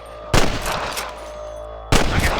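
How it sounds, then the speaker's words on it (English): Gunshots in the Western video game Red Dead Redemption on Nintendo Switch: two sharp, loud reports about a second and a half apart, each trailing into a ringing echo. "I can hear more gunshots"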